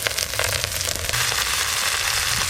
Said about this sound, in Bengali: প্রথমে বাঁধাকপিগুলো হালকা করে ভেজে নেব।